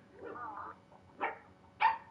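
A dog gives a few short barks and yips, close and fairly loud, with a soft whine before two sharper barks spaced apart.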